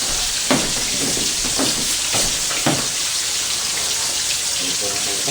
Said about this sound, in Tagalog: prito lang tayo ng isda